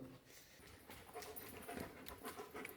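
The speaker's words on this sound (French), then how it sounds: "Et le chien." A dog named Mirka pants softly and quickly outdoors, with faint rhythmic breaths under light background noise.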